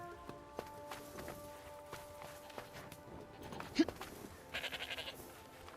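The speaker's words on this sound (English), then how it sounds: "Found all the sheep" Faint sheep bleating in the video game Forspoken amid soft footsteps and light tapping, with a short burst of bleats near the end.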